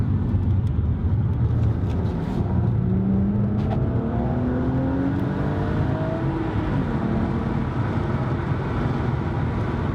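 A BMW M135i with an M Performance exhaust roars steadily from inside the cabin, the pitch climbing gradually as it accelerates to overtake under heavy road and wind noise.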